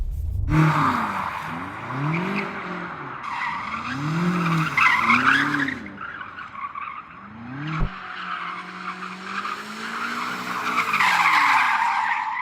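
Rear-wheel-drive car skidding with loud tyre squeal in repeated arcing swoops, engine revving beneath, close and sustained with no talk.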